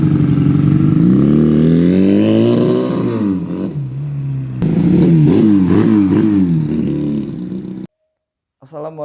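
A Monkey-style motorcycle with a twin-cylinder 250 cc engine revs close up, rising and falling through several loud throttle blips before cutting off abruptly near the end.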